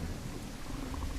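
Thunder rolls in the survival game The Isle as a dense, steady rumble with a rain-like hiss, loud and continuous throughout the short stretch.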